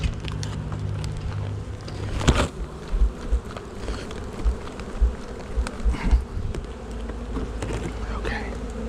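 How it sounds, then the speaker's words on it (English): A large swarm of honey bees shaken out into a new hive box fills the air with a dense, continuous buzzing hum, with a few louder thumps and knocks near the middle as the hive is handled. "Wow, there's a lot of bees in the air now. They are pissed."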